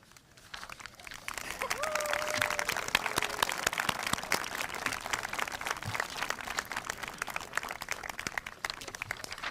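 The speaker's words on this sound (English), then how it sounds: "I ask all the graduates to stand up and give a round of applause to the very people that got us to this day." Graduation audience at a 2022 Kennett High School ceremony applauding the teachers, a broad, steady patter of many hands clapping from a distance that swells and holds throughout.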